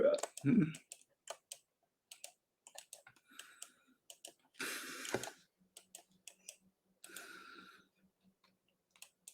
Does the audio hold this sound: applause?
no